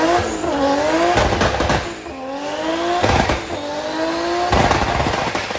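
Toyota Supra coupe engine and exhaust revving hard, several rising pitch sweeps broken by sharp gear changes, loud and close with a rasping, buzzy tone and no talking.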